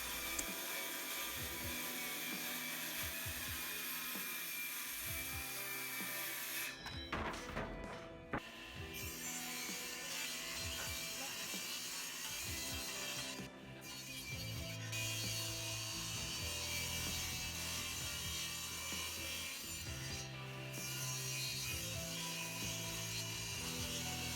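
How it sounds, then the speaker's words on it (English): Plywood being cut with a circular saw and a table saw, with a continuous loud whining blade roar, repeated drops and rises in pitch as the cuts bite, and brief lulls between passes. "I used a circular saw first to cut oversized portions of all of the plywood parts, and then took them over to the table saw to get the final perfect cut."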